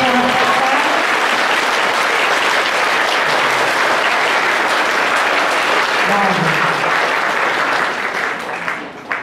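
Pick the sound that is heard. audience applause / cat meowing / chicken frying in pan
audience applause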